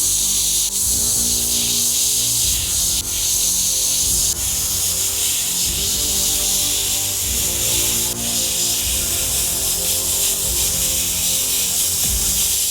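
A steady airbrush hiss of paint spraying for flat toning, running continuously and loud throughout with only small dips, alone with no talk.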